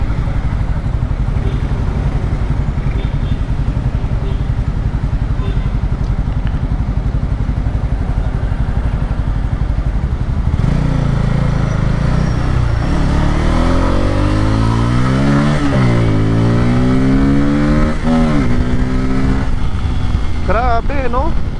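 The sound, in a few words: Kawasaki Pulsar N250 250cc motorcycle being ridden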